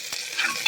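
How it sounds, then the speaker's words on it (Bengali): Chopped onion sizzles in hot oil in a pan for khichuri while a utensil stirs it in a few quick scraping strokes, close and bright. "ভালো করে নাড়াচাড়া করে আমি পেঁয়াজটা একটু ভাজা হতে সময় দেবো"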